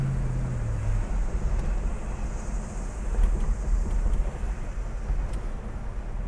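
A 1973 Ford Galaxie 500 hardtop's engine with a Motorcraft 2100 two-barrel carburetor drones at speed with a low rumble, heavy wind noise washing over it throughout.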